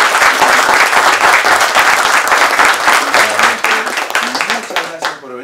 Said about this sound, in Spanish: un gran aplauso para los chicos que ahorita en un momento salen